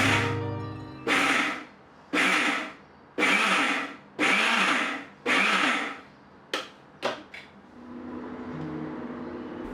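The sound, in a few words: blender pulsing rice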